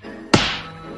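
A single sharp whack-like release as an arrow is shot in Minecraft Dungeons, with a brief bright decay afterward.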